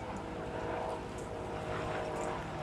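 An RAF Grob Tutor propeller trainer flies an aerobatic display at an air festival, its engine a steady, fairly distant propeller drone heard briefly, without talk.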